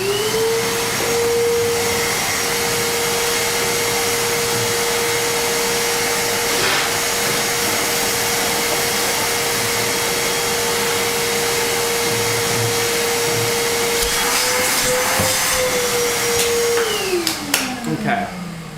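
A CNC machine running a 1/8 inch tool to clean up a part: a loud, steady high-pitched spindle whine with a constant hiss, dropping in pitch near the end, with voices faintly present.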